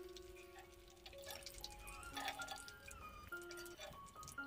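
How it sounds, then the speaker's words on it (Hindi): Light, irregular drips and tinkles of hot oil draining from freshly fried banana chips through a metal strainer, small clinks of the strainer scattered across the few seconds with no talk. "उसमें निकाल रही हूँ दूसरी छन्नी से, उससे तेल भी है जो अच्छे से निकल जाएगा"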